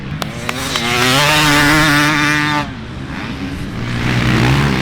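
A motocross motorcycle ridden off-road: its engine screams loud and close in a rising, sustained rev, cuts off abruptly partway through, then builds again with a lower drone.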